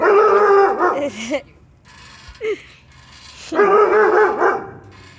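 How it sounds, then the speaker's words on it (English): A large husky–German Shepherd mix dog lets out two long, howling barks with whiny yips between them, close and loud. "He's part husky, part German Shepherd."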